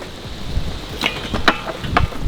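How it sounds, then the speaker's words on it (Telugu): Rain falling heavily outdoors, a steady broadband wash with scattered louder splashes and drops standing out near the middle and end, alone without talk. "ఘోరంగా అవుతుంది వాన."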